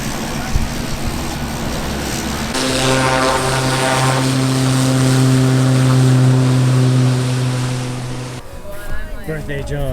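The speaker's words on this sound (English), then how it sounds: "It is so loud right now. There's an airplane in the back." A propeller plane drones loudly nearby with a steady, humming tone that swells and fades, over wind and people talking.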